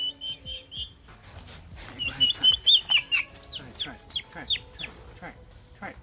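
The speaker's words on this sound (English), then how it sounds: "All the chirping you hear are from those 2 baby turkeys" High-pitched peeping chirps from baby turkeys, repeated and overlapping, with some clucking and a voice talking nearby.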